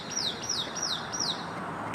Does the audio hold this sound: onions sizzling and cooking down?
no